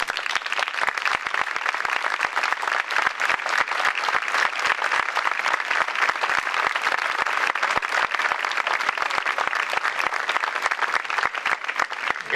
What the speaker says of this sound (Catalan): per a que demani un fort aplaudiment